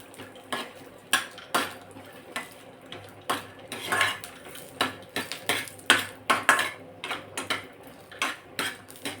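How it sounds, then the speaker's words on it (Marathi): Coconut slices are stirred as they roast in oil in a pan, with a spatula clinking and scraping against the metal in quick irregular strokes, close and fairly soft, with no voices. "आधी आपण हे खोबरं भाजून घेणार आहोत तेलावर"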